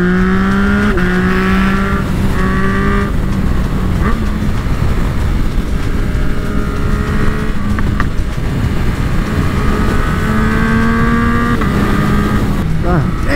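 Motorcycle fitted with a Yoshimura AT2 aftermarket exhaust on a highway pull, a loud steady engine drone with rising pitch through gear changes, wind noise throughout, and a rider speaking over it.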